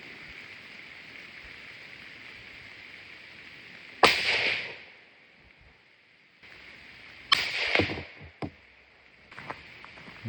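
Two loud, sharp cracks from a 7mm PRC rifle firing factory ammunition, the second followed by a smaller pop. Each blast rings out and decays over a steady outdoor hiss, with quiet stretches between.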